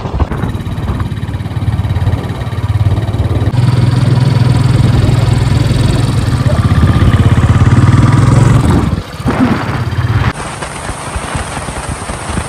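A motorcycle cruises along a straight road through jungle near Chorgalia in Nainital district, its engine drone and wind rumble loud and continuous, easing briefly before carrying on.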